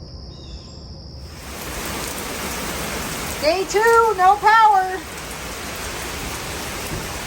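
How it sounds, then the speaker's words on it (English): Heavy rain from a strong thunderstorm pours steadily outdoors as a constant broadband hiss, and a person speaks briefly over it partway through. "We have just amazing strength in these thunderstorms."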